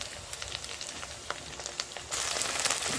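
Chopped tomato goes into a pan of frying ginger paste, giving a steady broadband sizzle that swells louder partway through as the moisture hits the hot oil. The sizzle is close and continuous, with no voices.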